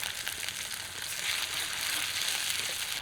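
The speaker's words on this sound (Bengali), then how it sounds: "কড়াইয়ের মশলাটা অল্প কষিয়ে নিলাম যাতে কাঁচা গন্ধের ভাবটা চলে যায়" A spice paste of ground ginger, garlic, onion and green chilli frying in a wok (kadai) with a little water, giving a steady soft sizzle and bubbling that holds fairly even with slight swells and no talking.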